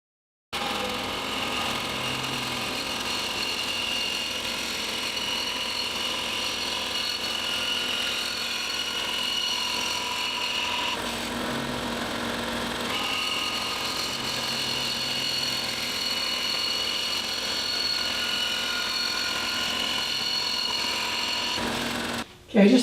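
Continuous steady whine of a saw with a half-inch, 10-teeth-per-inch blade slicing thin laminate strips from a board for guitar rosettes, loud and sustained with a brief dip midway.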